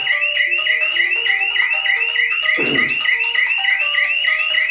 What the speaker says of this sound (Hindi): ये सायरन ऐसे ही बजता रहेगा